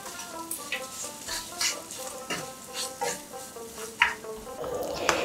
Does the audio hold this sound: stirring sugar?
yes